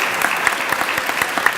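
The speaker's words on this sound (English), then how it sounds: "let's give her a round of applause" Audience applause at a leadership development program graduation, a steady wash of many hands clapping close by with no voices over it.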